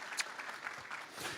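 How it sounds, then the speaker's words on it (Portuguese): An audience claps for a presenter at a business talk, a brief, faint patter of applause from a modest crowd. "Uma salva de palmas para a Nath, por favor."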